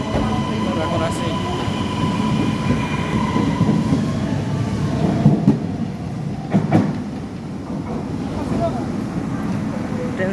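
A train runs steadily past a station, its constant low rumble and rattle filling the whole stretch, with a few metallic clanks and squeals near the middle.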